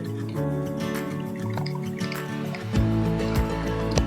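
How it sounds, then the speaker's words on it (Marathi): Cooked dal poured into roasted masala in a pan: thick liquid glugging and dripping steadily at close range, with a low hiss of the hot pan beneath. "आता आपण याच्यामध्ये डाळ घालून घेऊया."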